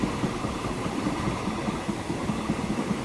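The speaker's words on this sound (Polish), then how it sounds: "O, pociąg jedzie." A train moving slowly through the Transport Fever 2 game, heard as a steady, dense rumble and hiss that holds at an even level without letting up.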